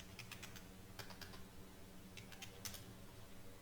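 Quiet keyboard typing comes in two short bursts of quick clicks, a search for a dollar image on Pinterest, faint and alone against low background hum.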